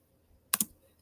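Two quick taps on a computer keyboard, close and brief, over a quiet room.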